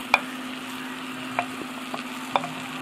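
Carrot and tomato fry in a pan for mortadella rice, giving a soft, steady sizzle punctuated by a few sharp clicks and taps from stirring, fairly quiet and close, with no voices.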